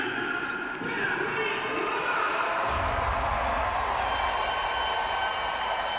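A large arena crowd at a speed skating World Cup in Calgary cheers and roars steadily in a continuous wash of sound, with an announcer talking over it.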